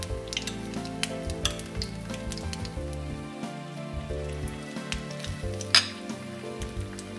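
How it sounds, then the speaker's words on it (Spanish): Hake loins fry in a pan over medium heat, a gentle steady sizzle running beneath a sustained musical backing, with one sharp clink near the end. "Se ponen los lomos en fuego medio para que se haga por dentro y no se queme."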